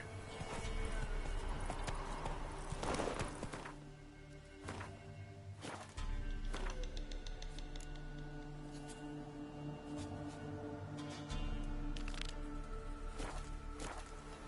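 Hoofbeats of a horse ridden across open ground in The Witcher 3, a steady rhythmic clip-clop up close with occasional snorts and heavier thuds over a background game soundscape.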